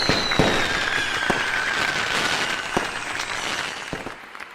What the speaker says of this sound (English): The fireworks, I think, changed in response to your amazing answer, Annie.